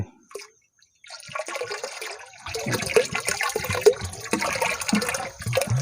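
Liquid B fertilizer for a melon crop pours into a water tank at a 1:200 ratio, a steady gurgling stream that builds after a brief pause and runs on with splashing and sloshing, fairly close and alone.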